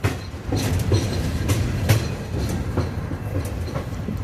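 An Alco locomotive pulling a train past at close range, with a continuous heavy rumble and regular clacking of wheels over rail joints, loud and steady throughout.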